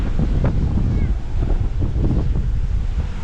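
Gusty wind buffets the microphone by the sea in Macau, a steady low rumble with irregular surges running throughout the whole stretch, loud and close.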